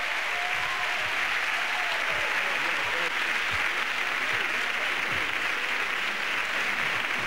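A studio audience breaks into loud, sustained applause to welcome hardcore DJs onto a music TV show, a thick, unbroken roar of clapping with faint voices beneath it throughout.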